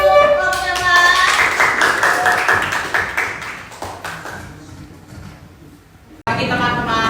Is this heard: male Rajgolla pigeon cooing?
no